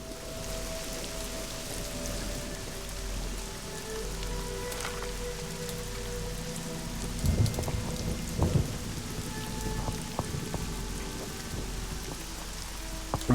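Steady rain and rolling thunder in the Nancy Drew game Legend of the Crystal Skull, a constant downpour hiss with low rumbles swelling around the middle and a few sharper cracks later.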